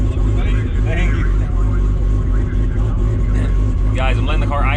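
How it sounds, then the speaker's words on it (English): A drag racing car idles to build temperature, a loud, steady, lumpy engine rumble dominating close up, with people talking over it throughout. "I'm letting the car idle a little bit so I can get some temperature."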